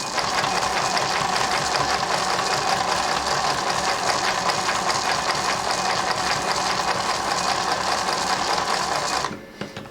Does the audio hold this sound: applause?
no